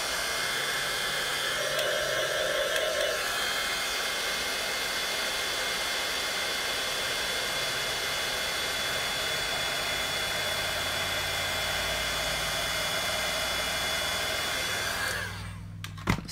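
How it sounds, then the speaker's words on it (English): An embossing heat tool runs continuously with a loud, steady blowing whir like a hair dryer, holding an even drone for about fifteen seconds before cutting off with a clunk near the end. "So I'm going to let my heat tool heat up So I'm just letting it run for a few minutes."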